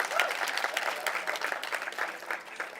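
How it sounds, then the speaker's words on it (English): Steady applause from a crowd, continuous clapping at moderate volume throughout with no talking. "Let's give them a round of applause as well."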